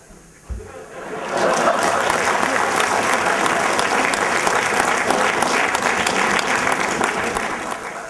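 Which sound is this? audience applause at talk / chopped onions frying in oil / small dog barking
audience applause at talk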